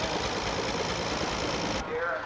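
A tractor engine idles steadily and close by at a small-town centennial parade in Nebraska, with a low, knocking rumble that continues throughout and briefly drops in tone near the end.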